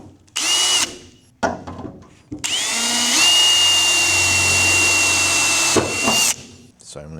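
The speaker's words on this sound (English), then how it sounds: "So what you do now, you just drill a hole through there" A power drill bores a hole through the centre of a steel car bonnet in a workshop, a close, loud whine in short bursts that settles into one long sustained run before stopping.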